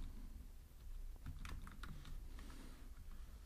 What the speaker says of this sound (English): I'll type room dependency in the search bar.